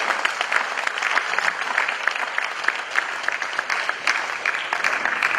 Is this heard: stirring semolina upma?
no